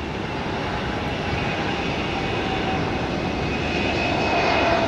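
A jet airliner takes off from runway 1 left at Tampa International Airport, its engines a steady, loud, broad roar sustained throughout with a faint high whine on top and no talk.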